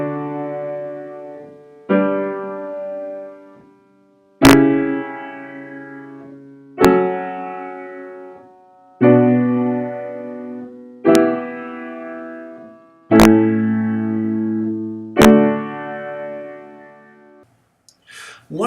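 A subtonic chord resolving to the mediant triad within a circle-of-fifths progression, played as a series of about eight struck keyboard chords, each ringing and decaying before the next, with no talking.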